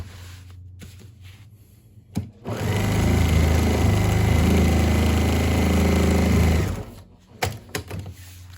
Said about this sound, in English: I'm going to back stitch here so I don't rip it out with my hands when I'm turning everything inside out